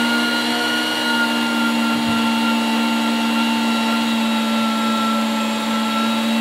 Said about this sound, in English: Turn off the mixer, and we have our beautiful biscuit dough